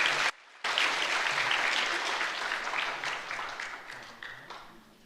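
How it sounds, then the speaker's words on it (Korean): A church congregation claps in celebration, loud dense applause that cuts out briefly near the start, then resumes and slowly fades toward the end. "우리 박수로 한번 축하하겠습니다."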